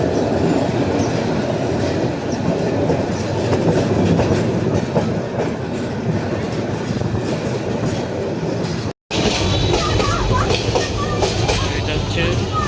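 Kishoreganj Express passenger train running between Narsingdi and Kishoreganj, a loud steady rumble with clickety-clack of wheels and faint squeals, heard continuously from on board with a brief cut near the end.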